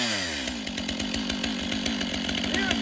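A Stihl 500 chainsaw runs at high revs while cutting wood, its loud, buzzing engine close and continuous for a few seconds.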